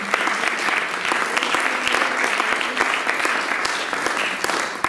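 A church congregation applauding during a French-language service, a dense continuous clapping from many hands filling the room, fairly loud and steady throughout.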